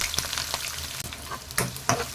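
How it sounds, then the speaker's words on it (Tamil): Long-sliced onions sizzle in hot oil for a chicken curry, a dense, close crackle with a few sharper pops and stirring scrapes, heard alone. "இப்போ வெங்காயத்தை நல்லா வதக்கிடலாங்க."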